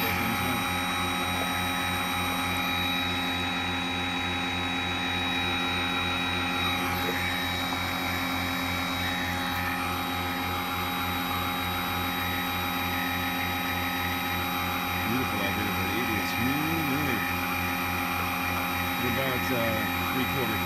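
Earthwise 56V electric powerhead motor drives a Hobie kayak at about three-quarter throttle, a steady, close whine with constant tonal hum; a person talks over it toward the end.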